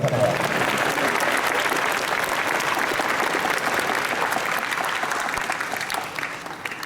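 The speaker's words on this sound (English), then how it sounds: "Let's give one more round of applause for Reverend Kanaka." Large convention crowd at the Otakon 2017 opening ceremonies in Washington DC gives a sustained round of applause, a thick, continuous roar of many hands clapping that holds steady for several seconds before starting to thin out.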